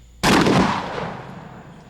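A shotgun fires a single incendiary Dragon Slug round: one sharp, loud blast that erupts suddenly and rolls off into a fading roar, with no voices present.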